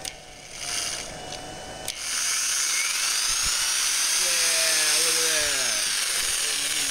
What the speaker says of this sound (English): I got my thingamajigger working, my jigsaw.